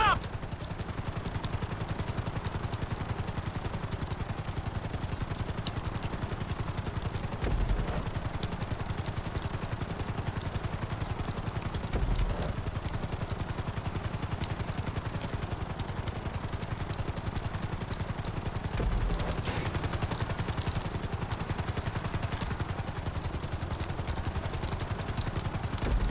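Helicopter in the video game GTA 5, its steady rotor and engine drone running loud and continuous throughout, with a few brief clattering bumps along the way.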